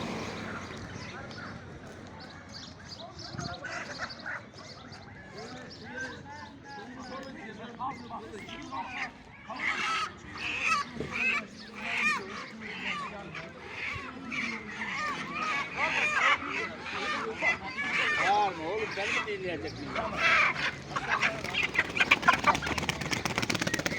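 Busy poultry market in Sungurlu, Çorum, where geese honk, roosters crow and chickens cluck in a dense crowded chorus with occasional wing flapping, and people talk throughout nearby.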